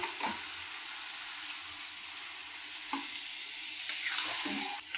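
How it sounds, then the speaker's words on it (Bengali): Water goes into sautéed masala in a pan, raising a loud hissing sizzle that stays steady and close, with a few scraping stirs and a brief splashy burst near the end. "আমি এর মধ্যে সামান্য একটু জল দেবো, বেশি দেবো না।"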